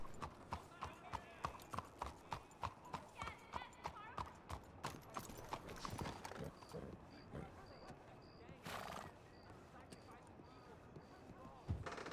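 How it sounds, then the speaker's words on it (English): A horse's hooves clip-clop in a steady, even rhythm on a hard surface during role-play training, close and clear, then fading out as other noises take over, with voices talking alongside. "Look at that horse."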